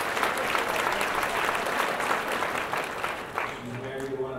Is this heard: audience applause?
yes